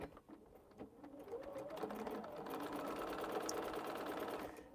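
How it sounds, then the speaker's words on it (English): Domestic sewing machine with a foot pedal, set up for quilting and embroidery, whirring steadily at moderate speed and fairly close, with little talk over it. "How come I'm over here stitching and haven't threaded the machine?"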